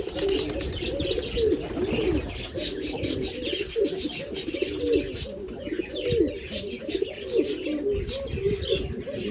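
Several pigeons coo continuously in low, rolling, overlapping calls. Occasional higher chirps and faint rustling sit among them at close range.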